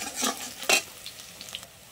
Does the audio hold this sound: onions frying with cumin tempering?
yes